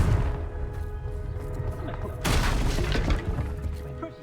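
A Bombarda spell explosion in the Hogwarts Legacy video game bursts in loudly halfway through, a broad crashing blast over a steady game-music and ambient bed, with shattering debris trailing off afterward.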